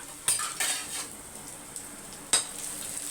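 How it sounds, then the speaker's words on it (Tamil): Onions softening in a pan for chicken biryani, a quiet steady sizzle with a few sharp clinks of a spoon against the pan and no talking. "வெங்காயம் வந்து கொஞ்சம் நல்லா வதங்கணும்"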